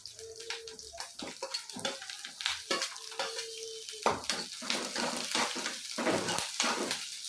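Onions tossed into hot oil for a bottle gourd masala dish, sharp bursts of sizzling and clattering stirring in an uneven rhythm, close up, building into a steadier fry toward the end.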